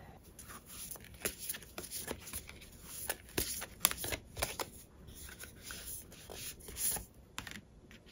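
Tarot cards are shuffled and handled up close, with soft irregular riffling, sliding and tapping sounds and occasional sharper card snaps over a quiet background.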